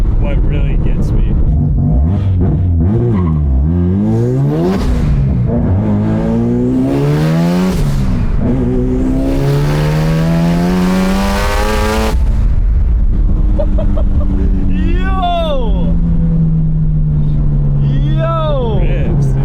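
An 800whp Subaru STi accelerates through repeated rising engine sweeps and gear shifts, loud and close from the cabin, then settles to a lower drone with turbo chirps.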